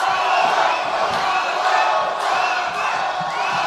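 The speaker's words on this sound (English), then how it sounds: "you hear the crowd yell, Viedas" Boxing crowd at a live bout chanting a fighter's name, Viedas, in loud rhythmic repeated yells with cheering, a big arena roar close and continuous throughout.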